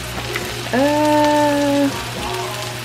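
Frozen vegetables tumble into a hot pan for shrimp fried rice, setting off a steady close sizzle. A sustained tonal hum rises over it for about a second before the frying carries on alone.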